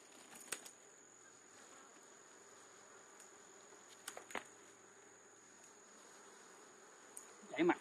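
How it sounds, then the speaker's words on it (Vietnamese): Stingless bees buzz around their nest as a faint, steady background drone, broken by a few brief taps and a short burst of voice near the end. "Có vài con ong sắt."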